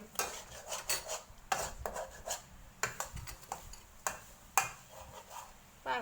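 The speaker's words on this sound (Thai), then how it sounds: "ถ้าไม่ขูดเดี๋ยวเขาไหม้เราขูดออก" A pan is scraped repeatedly while minced pork is stir-fried with baby corn, making quiet, rhythmic metallic scrapes and clinks at an irregular pace.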